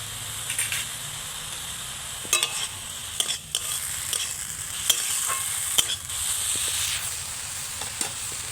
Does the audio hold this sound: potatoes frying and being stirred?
yes